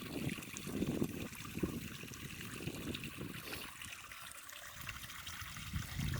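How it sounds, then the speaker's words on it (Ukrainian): Continuous trickling and gurgling of water flowing from a small pond being drained, steady and fairly close throughout. "вода зараз тече"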